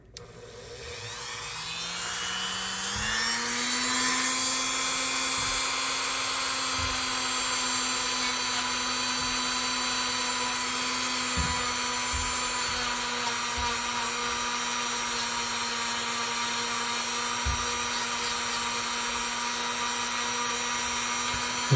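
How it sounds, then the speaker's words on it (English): Steady high-pitched whirr of a buffing wheel polishing a Klein electrician's knife with rubbing compound, a constant motorized drone running throughout with occasional faint knocks, no talking. "This rubbing compound does a good job of just initially getting rid of all the dirt and grime, crud on it."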